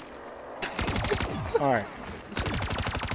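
Video game gunfire in a replay: rapid automatic bursts, loud and close, a first volley, a pause with a short spoken word, then another sustained burst.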